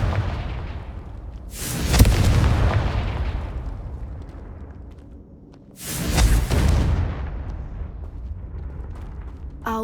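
Two heavy blasts from the Confringo fire spell in the video game Hogwarts Legacy, each a sudden booming burst that rumbles and fades over a few seconds, the second landing about four seconds after the first.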